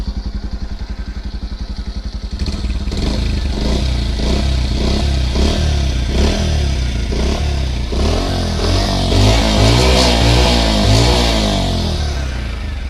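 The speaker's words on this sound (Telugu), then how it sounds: "దీని యొక్క సౌండ్ అనేది మనం చూసుకున్న సైలెన్స్ సౌండ్ అయితే చాలా స్మూత్గా ఉందండి" A Bajaj Pulsar 125 motorcycle with a 125 cc BS6 engine ticks over in a slow, even idle, then catches and runs louder with repeated throttle blips and rising revs, close up with no voices.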